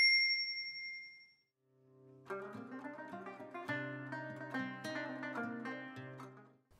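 A bright notification ding rings once and fades, then after a short silence a gentle melodic chime tune plays at low volume.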